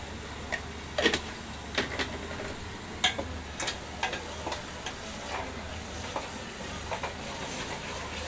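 Thick masala gravy for an egg curry frying in a pan and being stirred, a steady soft sizzle with scattered light scraping ticks from the spoon, no talking.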